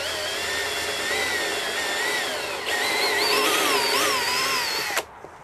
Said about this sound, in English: I'll start by drilling a hole in here.